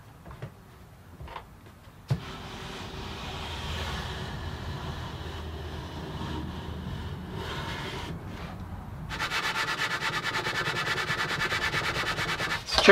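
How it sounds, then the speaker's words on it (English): A sanding beam works across the joined acoustic guitar top plates, giving a steady close scraping rub that grows louder and coarser in its last few seconds. "then we use a sanding beam"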